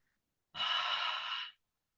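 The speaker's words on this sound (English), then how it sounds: "breathing in and out through the mouth as if you're trying to fog up a mirror" A single ujjayi yoga breath exhaled through the mouth as if fogging a mirror, a soft, close, breathy rush lasting about one second in otherwise near silence.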